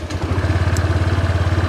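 A motorcycle engine idles close by in Phuket, Thailand, as someone learns to ride it; a steady, rapid low throb with an even pulsing beat runs through the short stretch, with no talk.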